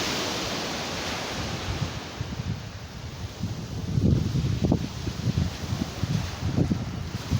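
Sea waves wash onto the shore in a steady roar, with swells of breaking surf every second or so growing stronger toward the end, mixed with wind buffeting the microphone.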